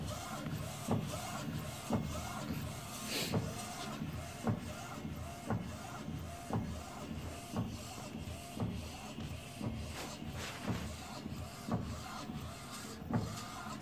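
A UV printer laying down white ink runs with a steady rhythmic mechanical whir, its print head repeating at regular intervals, fairly quiet and with no talk.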